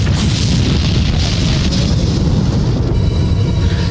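A whole planet explodes in a science-fiction space scene from Babylon 5, a loud, sustained roaring rumble with a deep boom that fills the entire stretch without letup.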